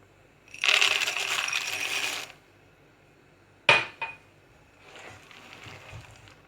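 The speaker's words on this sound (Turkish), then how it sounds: "Şimdi susamımız ve fıstıklarımızı da ekleyip karıştıralım." Sesame seeds and peanuts being stirred into peanut brittle in a pan, two loud rattling, scraping bursts, one long and one short, followed by a fainter stretch of stirring up close.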